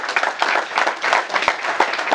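Applause from a seminar audience at an entrepreneurship training session, dense and steady clapping from a roomful of people that carries on throughout without a break.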